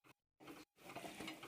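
Pakoras stirred into simmering karhi in a pot, giving short scraping, bubbling bursts broken by brief pauses, then a longer steady stretch of stirring and sizzle, close and moderately loud with no talk.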